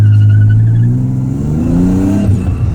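Drift car engine revving hard during a clutch kick at a grassroots drift day skid pad, a loud continuous roar that climbs in pitch with rising and falling revs, close and alone without voices.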